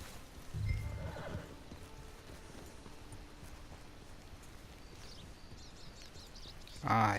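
In the Red Dead Redemption 2 game, a horse gives a short whinny and a few clip-clopping hoof steps early, then a quieter stretch follows before another loud whinny at the very end, heard fairly close.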